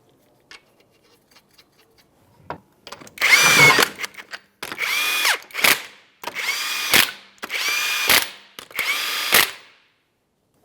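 A power tool spins 21 mm lug nuts onto the rear wheel of a 2005-2010 Chrysler 300 in a series of about five loud, close whirring bursts, each separated by a short pause, and no one speaks.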